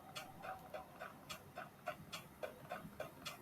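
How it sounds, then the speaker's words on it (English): A dog pants in the video game Tales of Berseria, giving quick, evenly spaced breathy puffs, a dozen or so in steady rhythm, fairly soft and close over a quiet background with no talk. "Ooh, doggy."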